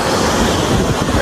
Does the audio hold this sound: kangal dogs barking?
no